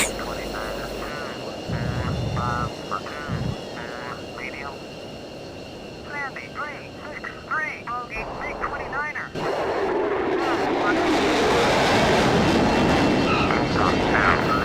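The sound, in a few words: F-22 jet landing in the Total Air War flight simulator video game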